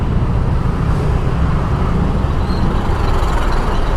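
Dense, heavy road traffic with trucks and buses rumbles loud and close in a continuous, unbroken wash of engine and tyre noise. A container truck trailer tipped over nearby, and no voices can be heard over the roar.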